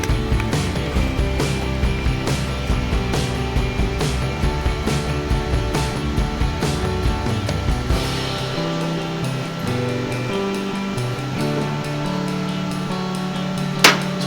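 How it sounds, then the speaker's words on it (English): Shirt being loaded onto a shirt printing machine, with repeated mechanical clicks and ratcheting clacks in a steady rhythm, then a smoother whir and a final clunk near the end. "So right now we're gonna load the shirt onto the machine."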